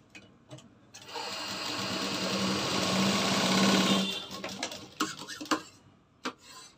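A sewing machine runs steadily for about three seconds, stitching a blouse shoulder seam, then stops, leaving a few scattered clicks and taps of handling the fabric.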